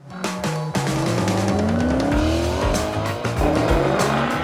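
A Maserati Quattroporte's powerful V8 engine revs up and roars at high speed with rising pitch, loud and close, with some tire noise.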